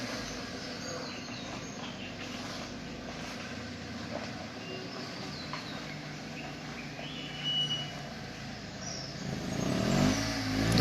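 A car idling and running outside a hotel in Boisseau, a low, fairly faint continuous engine rumble heard from indoors, swelling a little louder near the end, with no voices over it.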